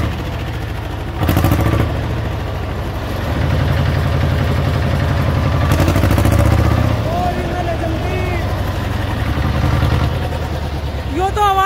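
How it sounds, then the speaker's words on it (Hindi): Tractor engine with a modified silencer idling close by, a steady low throbbing exhaust with brief revs, while people talk faintly in the background. "तो भाई इसके ऊपर बैठ के अभी आवाज सुनवा रहे"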